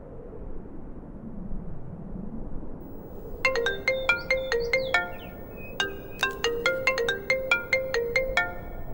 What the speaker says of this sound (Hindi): तुम्हारी मम्मी का फोन है।